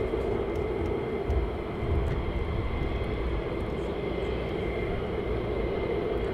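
A fighter jet flying at RAF Lakenheath air base produces a loud, continuous broadband roar that holds steady without fading, sounding fairly close.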